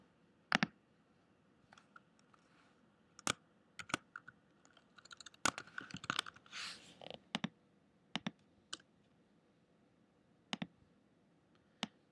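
Sparse, crisp computer keyboard keystrokes and a few mouse clicks during a web page design session, sounding as scattered single taps and short bursts with quiet pauses between them, close and clear with no talking.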